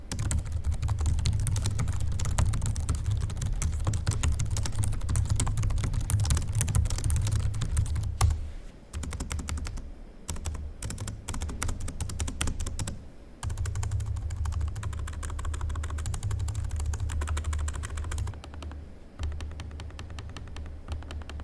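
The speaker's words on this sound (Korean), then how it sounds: "키보드 트랙패드는 저소음 기반이고 보통의 노트북들과 크게 다르지 않습니다." Steady, continuous typing on the low-noise keyboard of an ASUS TUF Dash F15 FX516 gaming laptop, with dense, soft key clicks that pause briefly a few times and carry no voices.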